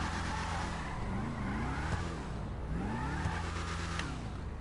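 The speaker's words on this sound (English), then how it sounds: "Bravado Gauntlet Hellfire muscle car." Bravado Gauntlet Hellfire muscle car from a GTA game, built to resemble a Dodge Challenger SRT, with a continuous loud engine drone and repeated rising revs as it accelerates, no talking.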